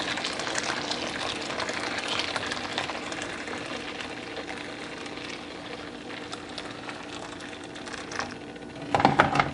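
Boiling water is poured over ogi, a fermented corn pap, producing a continuous close splashing, gushing stream that fills the bowl for several seconds and ends with a few louder splashes.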